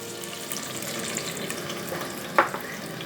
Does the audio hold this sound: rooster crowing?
no